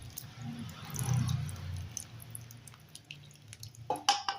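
Excess water poured off cooked dal for a brinjal and drumstick sambar, a soft trickling drip into a vessel with a brief louder splash near the end, close and fairly quiet.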